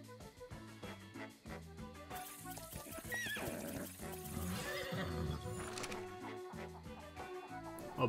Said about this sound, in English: A bunch of horses also spawn here